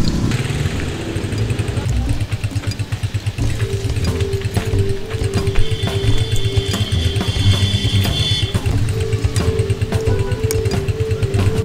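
A motorcycle engine runs at a steady idle with a fast, even putter that stays loud and close throughout, with no clear talk over it.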